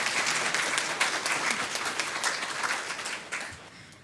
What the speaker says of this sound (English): give them a round of applause for all that they do for us